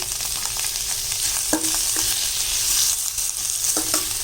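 Chopped tomatoes sizzle steadily in a hot pan with onions for manathakkali keerai sambar, with a few sharp spatula scrapes and taps against the pan as they are stirred.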